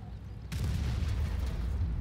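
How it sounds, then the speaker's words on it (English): A heavy artillery shell strikes a tank in World of Tanks, landing with a sudden deep boom about halfway through that gives way to a sustained low rumble and crackle, loud and close, with no talk over it. "Artillery finishing him off"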